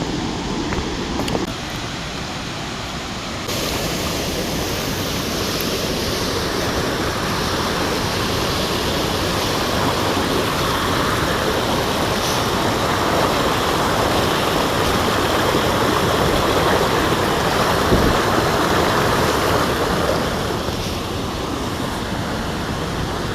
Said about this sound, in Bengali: কত উপর থেকে জলটা পড়ছে